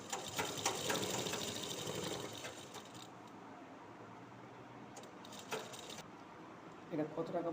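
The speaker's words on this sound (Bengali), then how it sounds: "লব সেলাই দিচ্ছি" A sewing machine stitching a nighty: a quiet, fast mechanical whir in bursts, starting and stopping a few times, close up, with faint talk in the background.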